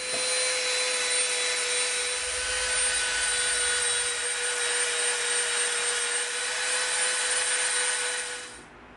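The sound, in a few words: Dremel rotary tool shaping EVA foam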